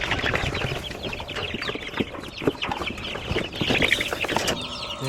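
Twelve Rhode Island Red chicks peep and cheep in a busy, overlapping chorus, with soft clucking fowl sounds close by and no talking.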